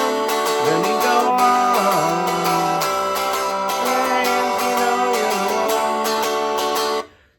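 A Loog guitar strums a song in a mix of eighth and quarter notes, bright chords ringing close and loud in a steady rhythm before stopping abruptly at the end. No one speaks.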